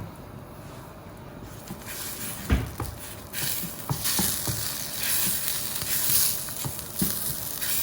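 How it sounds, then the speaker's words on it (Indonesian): Blended spice paste sizzles and fries in a spoonful of margarine, a steady close crackle broken by scraping stir strokes and soft clanks of the utensil. "Tumis bumbu yang tadi aku blender ya."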